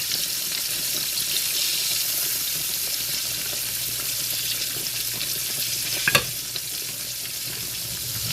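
Sliced green tomatoes frying in a pan: a constant, fine crackling sizzle that holds steady throughout, with one brief clink near the end.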